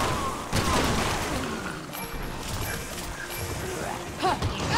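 Repeated pistol shots in the video game Resident Evil 6 crack out between loud thuds and crashes of game action, with a continuous busy din throughout.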